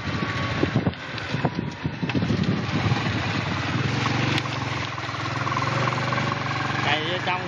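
A tall motorcycle with a high-mounted, heat-shielded exhaust runs on the road during a test ride, its engine droning steadily with wind noise while a narrator talks over it.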